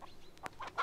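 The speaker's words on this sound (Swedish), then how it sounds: "15 höns och 1 tupp." Hens and a rooster on a farm clucking, a few short soft clucks close by over a quiet background.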